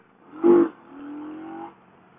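A brief Victory Octane motorcycle engine rev that swells quickly, then a lower sustained drone that fades out, heard alone at moderate distance.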